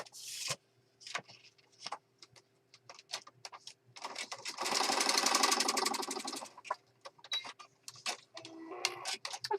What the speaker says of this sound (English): I can get my foot on the pedal. And I'm just going to stitch across.